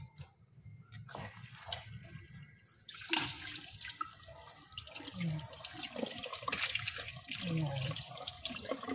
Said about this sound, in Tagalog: Hugasan natin ang pipino.